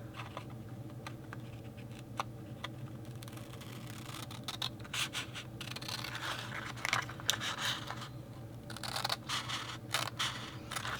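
Scissors snip through show curtain fabric in a quiet indoor space, a run of small close cuts that starts sparse and grows more frequent, clustering into quick bursts toward the end, with a low steady hum underneath.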